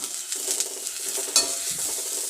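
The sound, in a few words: dry roasting grated coconut in a pan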